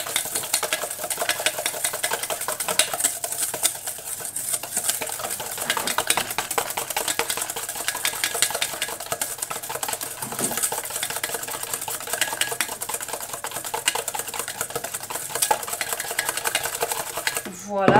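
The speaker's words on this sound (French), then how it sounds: "on va blanchir tout simplement nos jaunes avec... notre sucre, vous voyez. Donc vous remuez bien, on blanchit." Egg yolks whisked with sugar in a bowl make a fast, continuous run of scraping, rattling strokes, close and steady for the whole stretch, ending with a louder knock.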